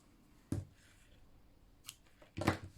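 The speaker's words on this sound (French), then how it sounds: "Je coupe le fil" Scissors snip through crochet yarn, two or three quiet close cuts with short metallic clicks separated by pauses, in a still room.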